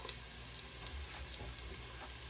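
Ingredients for corn soup with shrimp and lobster sauté in a pan with a faint, continuous sizzle and light stirring, low and steady with no talk.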